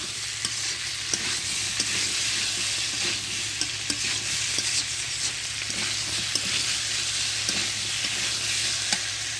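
Fish curry with papaya, potato and long beans sautéing in an uncovered pan, a dense steady sizzle with regular light scraping stirs, close and without voices.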